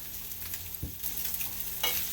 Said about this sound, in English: So we're gonna start with putting these in here. A nice hard sear.